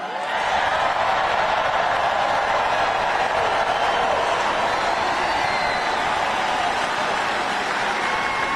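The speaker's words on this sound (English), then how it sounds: "Look at this crowd." A large rally crowd cheers and claps in a steady, dense roar that holds at constant loudness from start to finish.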